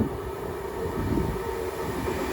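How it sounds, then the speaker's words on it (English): An Avanti West Coast Class 390 Pendolino from London Euston to Manchester Piccadilly passes through Watford Junction on the West Coast Main Line, a close, steady rumbling rush of carriages with no voices. "Will be Avanti West Coast 390 Pendolino, going from London Euston to Manchester Piccadilly."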